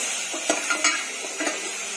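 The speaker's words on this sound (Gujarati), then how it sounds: "તો હવે આપણે નાખી દઈશું ટામેટા" Tomatoes tipped into a hot pan for an Indian dish, a steady hiss of sizzling oil with a few scraping stirs and clinks of a spoon against the metal pan, close and with no voices.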